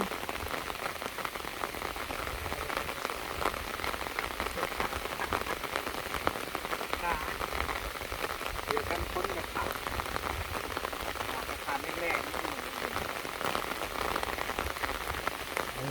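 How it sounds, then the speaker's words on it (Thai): Steady heavy rain pattering continuously on surfaces outdoors, with a dense, even hiss and dripping throughout and no clear talking. "ฝนกระตก"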